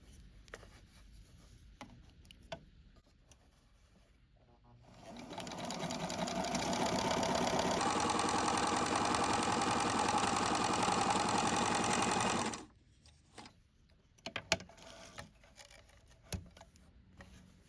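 Kenmore sewing machine running a zigzag stitch at 4 millimeters width, a steady mechanical whir that builds up, holds for several seconds, then stops, with light handling clicks before and after.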